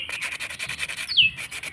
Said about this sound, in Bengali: শব্দ শুনে তো নিশ্চয়ই বুঝতে পারছেন কতটা মুচমুচে মুখরোচক স্বাদ আছে।